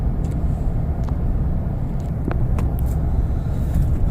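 Chevrolet Trailblazer with a 4L60E automatic transmission drives along, its engine a steady low rumble with road noise as it accelerates up through the gears, with no talking.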